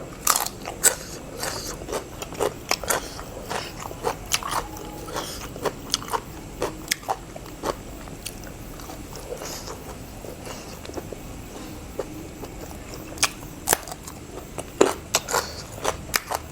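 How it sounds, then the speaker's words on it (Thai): Crunchy eggplant is bitten and chewed alongside a spicy snail dish, giving close, repeated sharp crunches and crackly bites in an uneven rhythm over a quiet background, with no talking. "บักเขือนี่ก๊อบก๊อบก๊อบดีขนาด"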